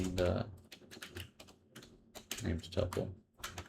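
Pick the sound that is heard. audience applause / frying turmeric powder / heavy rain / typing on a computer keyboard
typing on a computer keyboard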